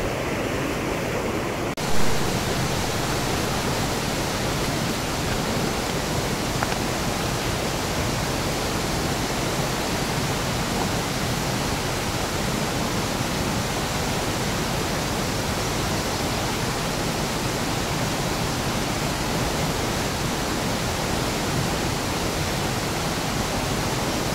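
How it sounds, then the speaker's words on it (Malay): Steady, full rushing water of a river beside a campsite in Perak, a continuous broadband roar with no breaks, close and constant throughout. "Sebelah satu sungai dekat sana. Satu lagi sungai dekat sini."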